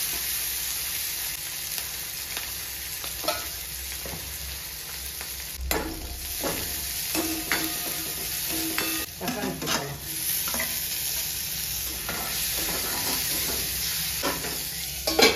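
Onion and green chilli, with garlic and fennel, sizzle as they are sautéed in a pan, a steady crackling fry with repeated scraping stirs of a spoon at close range.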